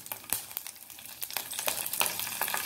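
Mustard seeds crackling and popping in hot oil for poori bhaji, a rapid, irregular series of sharp close pops over a soft sizzle, growing busier toward the end.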